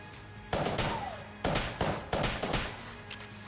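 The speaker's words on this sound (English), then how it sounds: "I will absolutely use Polaris ammo to kill these guys" Polaris gun in Enter the Gungeon lets off several loud, close bursts of shots, the first near the start and then three more in quick succession, each followed by a short ringing decay.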